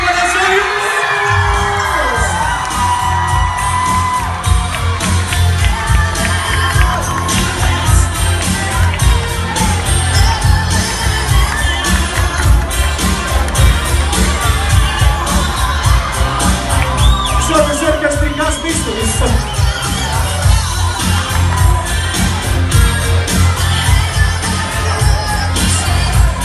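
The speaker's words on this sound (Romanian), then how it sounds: "Aplauze, aplauze!" A school freshman ball audience in an arts high school hall cheers, whoops and shouts loudly, with a dense, continuous crowd roar and bursts of clapping, while an announcer speaks over it.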